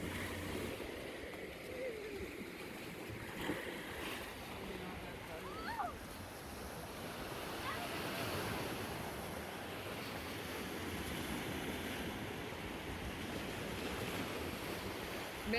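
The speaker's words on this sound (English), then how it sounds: "Man, those waves are rougher today." Rough ocean waves at a beach near sunset, a steady, continuous rushing surf with wind buffeting the microphone. Faint voices occasionally sit beneath the roar.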